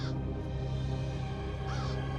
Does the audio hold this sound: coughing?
no